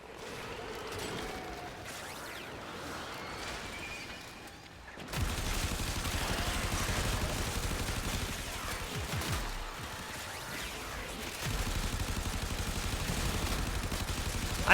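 Gunfire rattles from a gun in the video game Warframe, quiet at first, then a loud, sustained stretch of rapid shots and impact noise mixed with game effects.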